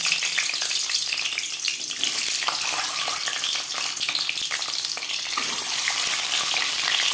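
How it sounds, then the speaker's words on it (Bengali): Boiled eggs frying in refined oil in a pan give a steady, loud, crackling sizzle with a brief surge partway through, close by and with no voices. "এবার দিয়ে দেব সেদ্ধ করে রাখা ডিম।"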